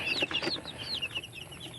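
Young chicks peep in quick, high chirps, several calls overlapping in a short burst, faint and close, with no talking.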